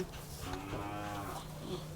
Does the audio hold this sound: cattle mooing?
yes